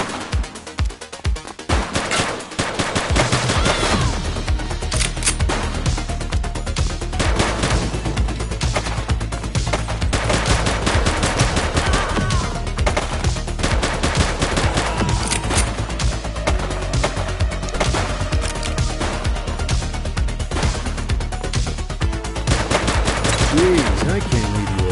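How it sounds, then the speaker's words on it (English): Sustained gunfire from the video game The Precinct, loud bursts of automatic and single shots crackling almost continuously for about twenty-five seconds after a brief quieter opening. "She's shooting! One less bad guy."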